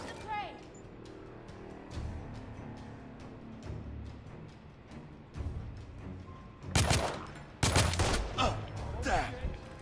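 Gunfire in a battle in The Order: 1886 video game. Scattered shots and a few loud, sharp cracking bursts come near the end, mixed with in-game voices and shouting.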